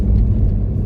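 A car's engine runs while driving, heard as a loud, steady low rumble from inside the vehicle with no change in pitch.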